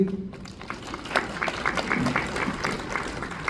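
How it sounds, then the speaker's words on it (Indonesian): Steady applause from a church congregation at an Indonesian Independence Day service, a dense patter of many hands clapping that carries on without a break. "Wah, tepuk tangan untuk Pak Husin."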